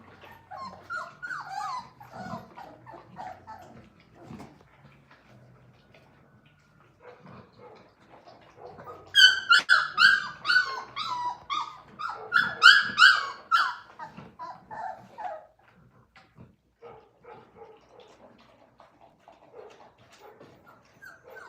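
A litter of 26-day-old Boerboel puppies whimpers, yelps and growls in close, overlapping bursts that swell to a loud, busy cluster midway and then settle back to softer whines.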